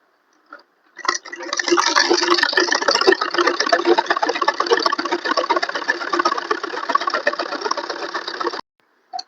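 A sewing machine stitching salwar fabric runs in one steady, fast, close rattling whir for about seven seconds, starting and stopping abruptly.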